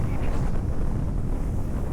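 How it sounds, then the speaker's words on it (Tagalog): Steady wind buffeting a microphone at a beach campsite in Calatagan, Batangas, a loud continuous low rumble with gusty swells and no talk. "hangin oh"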